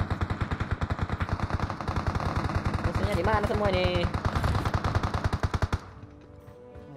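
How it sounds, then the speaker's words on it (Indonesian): Rapid automatic gunfire in PUBG Mobile rattles loudly in steady bursts for most of the clip, then cuts off near the end; someone talks over the shooting. "Tembakan, baik amat tembakannya."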